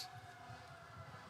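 A siren wails outside at a distance, a faint, steady, drawn-out tone that holds through the whole moment with no talking over it.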